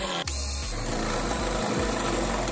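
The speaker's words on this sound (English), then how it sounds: "drill in the hole." A power drill whirs up after a brief click and keeps running steadily at close range, drilling holes in the exterior of an Intech Flyer Pursue camper trailer, a continuous buzzing motor whine with no talking.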